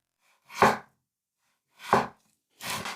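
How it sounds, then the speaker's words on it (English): A knife chops through beef steak on a board in three distinct, evenly spaced strokes, each a sharp close thud, with silence between them. "let's cut both steaks the same way into thin slices"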